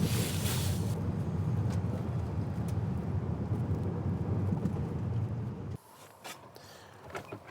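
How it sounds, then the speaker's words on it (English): Steady rain with gusting wind, a dense continuous roar that drops abruptly near the end to quieter patter and a few faint knocks. "It's raining, it's windy"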